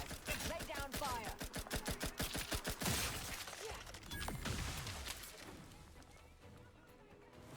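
Rapid bursts of automatic gunfire from The Outer Worlds 2, fast rhythmic shots for a few seconds before giving way to impacts and a fading rumble, quiet overall with faint voices mixed in.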